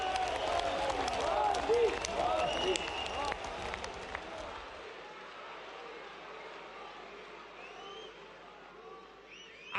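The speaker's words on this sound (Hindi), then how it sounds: "मैं करूं तो क्यों ताली बजाते हो?" An audience at a PM Vishwakarma event claps in a dense burst of applause that swells for several seconds, then thins and fades out, with a voice talking faintly through it.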